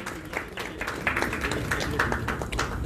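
Audience applause for the golfers at the Jammu Tawi Golf Course tournament in Jammu, a steady spatter of clapping from a crowd lasting the whole moment, moderately loud and continuous.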